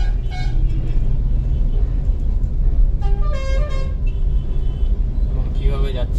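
A road traffic jam in heavy congestion with cars and a bus: continuous engine and road noise close by, broken by several honks and toots near the start, in the middle and at the end.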